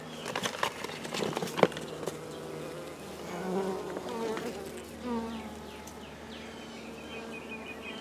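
Honeybees from a double hive colony buzz close and constantly, with an insect drone that rises and falls as individual bees fly past, plus a few sharp taps early on.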